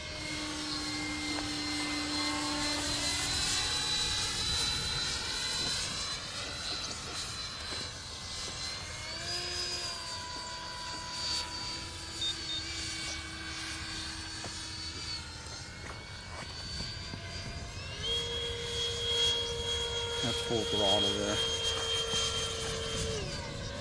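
An 89mm ducted fan model plane at full throttle, a loud steady jet-like whine that rises and falls in pitch as it passes, near to moderately distant, heard alone with no talking.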